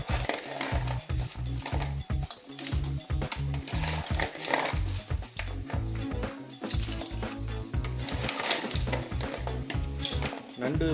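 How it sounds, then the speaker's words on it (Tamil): Crab pieces are tossed into a home-style Chettinad crab gravy and stirred in a pan, with rapid rhythmic scraping and clinking of a spoon against metal over a light sizzle, close and busy throughout. "இந்த கழுவி வச்சுக்க நண்டு எடுத்து நம்ம போட்டுருவோம்"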